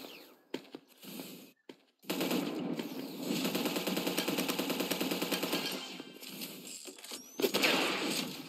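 Rapid gunfire in the online shooter ev.io, a long sustained burst of close, loud shots with brief isolated bangs before and after.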